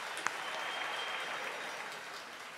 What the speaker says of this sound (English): Give yourselves a huge round of applause, Gauteng.